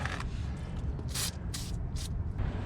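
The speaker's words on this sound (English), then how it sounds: "I'm gonna spray this so that this loosens up" Several short hissing bursts of an aerosol spray can on brake parts, each lasting a fraction of a second, over a steady low background rumble.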